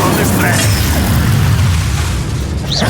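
An Incendio fire spell goes off during a Hogwarts Legacy battle, producing a loud, sustained roaring boom and whoosh of flame, with a character's voice heard over it.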